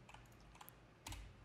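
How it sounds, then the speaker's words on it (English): Typing on a computer keyboard during Python coding, with a short run of light, close key clicks followed by a slightly heavier keystroke, quiet and alone. "And now I can type"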